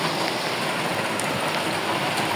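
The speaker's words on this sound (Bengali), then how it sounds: "আজ এখানে বৃষ্টি, কিরকম বৃষ্টি হতেছে আজকে" Heavy rain pours down in a dense, unbroken hiss of drops striking surfaces, loud and steady throughout with no voices.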